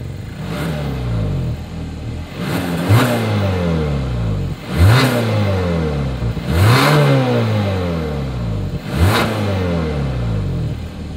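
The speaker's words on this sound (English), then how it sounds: "As always, here is that exhaust clip." A 2021 Hyundai Santa Fe exhaust with a satin chrome tip, revved repeatedly: five sharp rising blips spaced about two seconds apart, each falling back to idle, loud and close with no talk.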